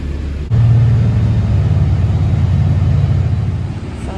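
Bus engine running, a loud low rumbling idle that kicks in sharply after half a second and drones steadily nearby, easing slightly toward the end with no talk.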